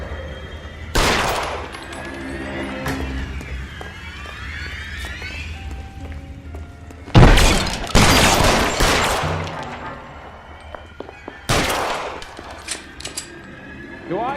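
Gunfire in the video game L.A. Noire, with loud bursts of shots and volleys spread across a tense scene. Voices are heard between the shots, along with other game sounds.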